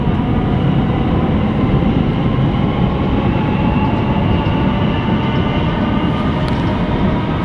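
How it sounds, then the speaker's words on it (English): A train from London Liverpool Street rumbles past near Southend Airport, a loud, dense roar of wheels on rails sustained throughout with no voices. "Probably hear the train in the background as well from London Liverpool Street."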